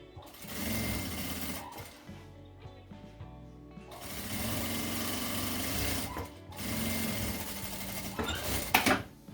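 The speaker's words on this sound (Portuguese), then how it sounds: "E passar uma costura de pesponto aqui, bem na borda, bem na pontinha." Sewing machine topstitching close along the edge of a fabric pouch with a zip, making a steady whirring hum in two long runs with a brief pause and faint clicks in between.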